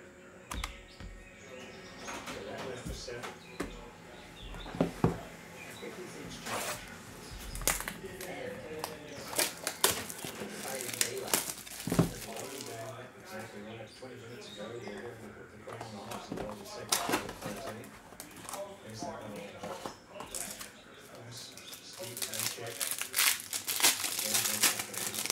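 Bowman Chrome trading card packs from a 2021 hobby box are torn open, with repeated sharp crinkling and ripping of foil wrappers close up, broken by quiet gaps and some speech.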